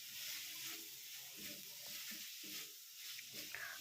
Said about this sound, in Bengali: টমেটোর সস দিয়ে আমি হালকাভাবে ফ্রাই করে নিচ্ছি